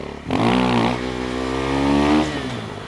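A motorcycle engine revs hard during a wheelie, a loud, sustained mid-pitched drone that climbs, holds steady and then eases off over a few seconds, with no voices.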